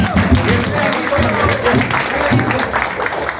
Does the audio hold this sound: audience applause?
yes